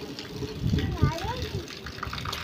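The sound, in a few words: water overflowing from full terrace water tank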